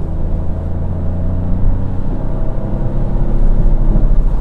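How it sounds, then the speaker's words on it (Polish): A Peugeot 308 car engine drones with a deep, steady rumble while driving in snow, rising slightly in loudness toward the end as the throttle is pressed, with no talking. "A teraz możemy sobie sprawdzić, jak ten silnik hałasuje. Dodaję gazu."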